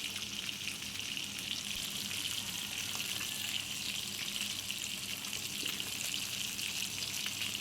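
Jilebi fish fries in a pan with a steady, even sizzle of hot oil, soft but continuous, with faint crackles and no voices.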